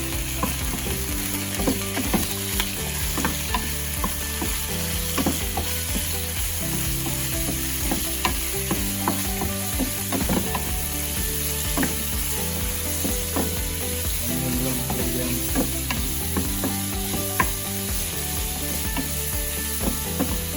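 Shrimp frying in a little oil for a teriyaki hibachi dish, a constant close sizzle with scraping and clattering of a utensil stirring against the pan throughout, no voices.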